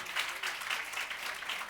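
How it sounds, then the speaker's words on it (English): A conference audience gives a short round of applause for a panel in a breakout room, soft and distant with steady patter and no voices. "Please give them a round of applause."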